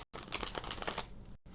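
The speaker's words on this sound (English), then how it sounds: "I'm going to shuffle the cards" A quick, crisp riffle of tarot cards being shuffled close by, lasting about a second before falling quiet.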